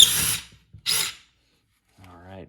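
A Dewalt impact driver drives a large bolt in two short, loud, hammering bursts separated by a brief pause, followed by someone speaking.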